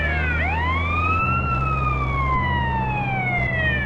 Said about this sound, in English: listening to this annoying siren